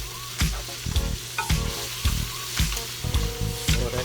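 Bacon frying in a pan, a steady sizzle broken by repeated sharp scraping clatters as the strips are turned, loud and close with no talking.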